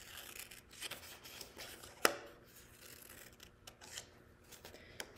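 Scissors cut paper for a pumpkin collage, soft close snips and rustling paper with a single sharper click midway, all quiet with no talk.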